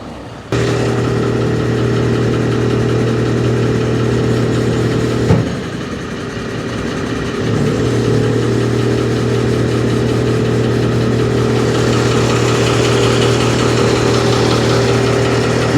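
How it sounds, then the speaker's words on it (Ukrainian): A Horyong Sky 450 45-metre truck-mounted aerial lift on a Daewoo Maximus chassis unfolds its boom by remote control, with a steady engine drone and a constant tonal hydraulic hum that dips briefly, then resumes loud and even. "наш оператор за допомогою дистанційного пульта керування починає а, е, розкладання самої стріли"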